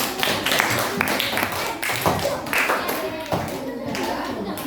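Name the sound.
students clapping for all groups in class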